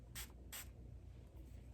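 Pre-wax oil sprayed onto skin from a pump bottle, two quick close hissing spritzes in a row followed by a fainter third, in a quiet room.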